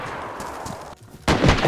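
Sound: gunshots in DayZ video game

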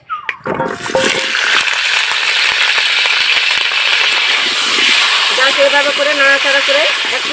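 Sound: potatoes frying lightly in oil with salt and turmeric

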